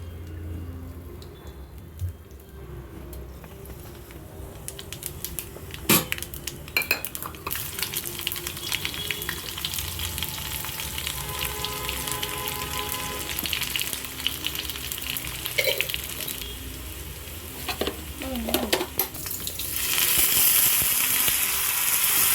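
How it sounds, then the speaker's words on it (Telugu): Tempering for dal sizzles and crackles steadily in a hot pan, with occasional clinks of a metal spoon against the vessel and a louder burst of frying toward the end. "ఇలాంటి సిజ్లింగ్ సౌండ్స్ భలే అనిపిస్తాయి కదండి."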